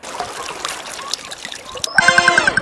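Water poured from a bucket for bathing, a soft trickling dribble at first, then a louder, steadier gush of pouring water in the final half-second, close by with no talk.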